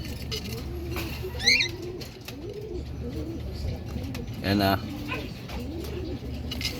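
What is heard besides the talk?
pigeons cooing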